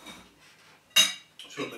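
A sharp clink of a spoon against a plate, brief and close, with faint muffled voices before and after.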